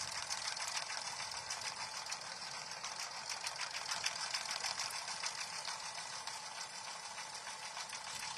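A larger multi-needle embroidery machine stitching a patch design, with a fast, even mechanical clatter of needle strikes running continuously and fairly close, alone without talk.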